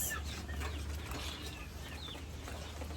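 A flock of chickens clucks continuously, overlapping soft calls and a few sharper squawks close by in an outdoor yard, with no talk.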